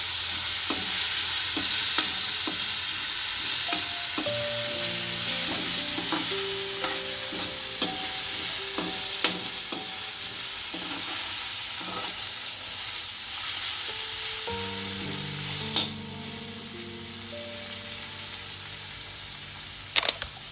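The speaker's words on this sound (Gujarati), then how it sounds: "મરચાં અને લસણની પેસ્ટ નાખશું. સારી રીતના હલાવી લઈશું." Onions frying in a pan with chili and garlic paste added, a constant close sizzle broken by clicks and scrapes of stirring, with a few sharper knocks, no talking.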